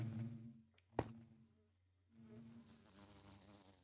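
Bees in the Minecraft video game give a faint, steady buzzing hum, broken by a single sharp click partway through, with no talk.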